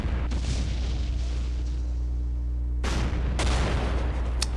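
Booming explosions and gunfire from a WWII armored-warfare strategy game set on the Western Front, with a steady low rumble throughout and two sharp blasts partway through and near the end, no talk.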